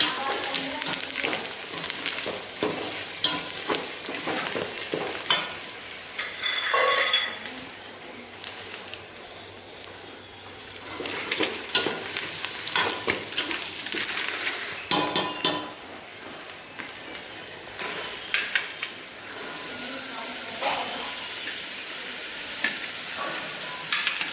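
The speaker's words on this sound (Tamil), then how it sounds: "ஒரு கிண்டி கிண்டிக்க." Sundal being stirred into a tempering in a pan, giving uneven bursts of scraping and stirring over a soft background sizzle, close and fairly quiet, with no talking.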